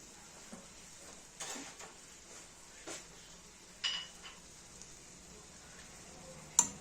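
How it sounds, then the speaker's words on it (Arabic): Onion cooks in oil with salt under a faint, steady sizzle while a spoon stirs, scraping and knocking against the pot every second or so, with one sharper clink near the end. "كنحركو البصله مع الزيت مع شويه ديال الملحه"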